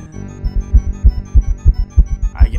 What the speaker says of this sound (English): I can hear your heartbeat.